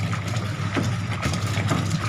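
Washing machine draining water, a continuous close whooshing rush with a low pump-like hum underneath, steady and moderately loud throughout.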